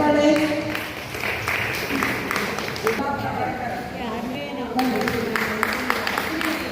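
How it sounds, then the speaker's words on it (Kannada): An audience at a women's foundation gathering claps for a prize winner, producing a patter of scattered applause mixed with background talking. "ಒಂದು ನಿಮಗೆ ಚಪ್ಪಾಳೆ"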